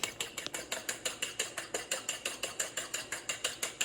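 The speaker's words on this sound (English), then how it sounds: "The more you whisk, the lighter your omelet will be, fluffier." Eggs whisked briskly in a bowl for a fluffy omelette, a fast, steady train of light clicking strokes, roughly five per second, close and clear with no talking.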